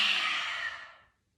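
A single long exhale of breath during a yoga breathing round, a soft airy rush that fades out after about a second, close and alone with no talk.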